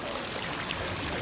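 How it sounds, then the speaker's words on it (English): Water trickles and splashes softly and continuously down a backyard waterfall feature built of stone, wood and mossy logs, heard up close with no talking. "This is Team 3's water feature."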